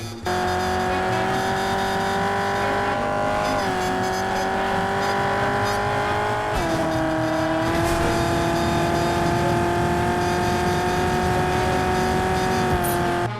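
A car engine in the Fortnite video game, from a Nissan Sylvia S15 lookalike, drones steadily and loudly throughout with a sustained tone, briefly shifting pitch as it changes gear, with faint tire noise underneath.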